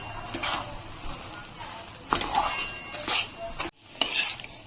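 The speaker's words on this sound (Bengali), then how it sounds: "এখন আমি গ্যাসটাকে একদম লোতে রেখে বেসনটাকে ভেজে নেব।" Gram flour (besan) being stirred and dry-roasted in a pan over a low gas flame for besan laddu, giving soft scraping strokes with light sizzling, close and moderately quiet, with no talking.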